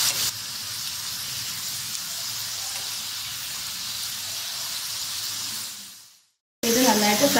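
Bitter gourd slices frying in a pan, a steady close sizzle and hiss that holds evenly for about six seconds, fades out to brief silence, then resumes loudly.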